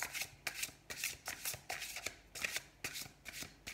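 A deck of tarot cards is shuffled in quick rhythmic bursts, about ten crisp riffling snaps in under four seconds, close and fairly quiet with no talk.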